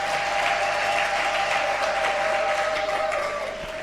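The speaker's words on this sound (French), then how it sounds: "Acclame le Seigneur Jésus." A church congregation applauds the Lord Jesus with loud, sustained clapping from a large crowd that holds steady for the whole stretch.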